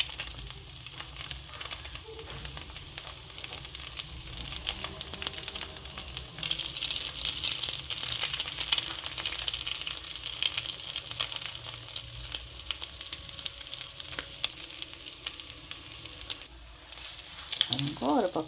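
An egg dosa on black rice batter sizzles on a hot pan, a steady close crackling fry that runs without a break.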